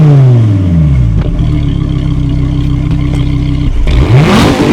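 A Dodge Viper ACR Extreme's engine drones loud and close at around 3,000 RPM in town driving, a steady deep harmonic roar that rises in pitch as the car accelerates, then drops and climbs again near the end.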